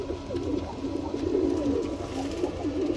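Roller pigeons coo in a steady, overlapping chorus from a pigeon loft, soft low warbling calls repeating throughout with no one talking.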